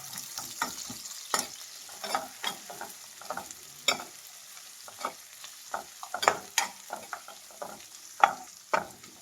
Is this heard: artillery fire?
no